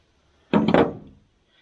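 A single close, dull knock rings out as a part is driven out while rebuilding a Muncie three-speed transmission, a brief thud with nothing around it.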